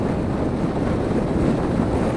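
Steady, loud wind buffeting a rider on a Yamaha FZ6R motorcycle at freeway speed, a continuous broadband roar with no breaks across the short stretch and no talking.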